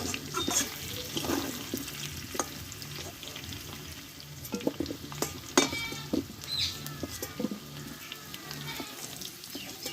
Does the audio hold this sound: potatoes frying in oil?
yes